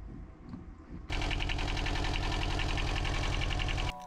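An engine starts abruptly and runs steadily at a fast idle with a dense, rattly mechanical drone, close and loud, to flush old oil through it during a first service. Then it cuts off sharply near the end.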